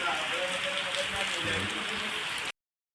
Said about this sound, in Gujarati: આ બાદ તો વરસાદ ચાલુ થઈ ગયો છે ફૂલ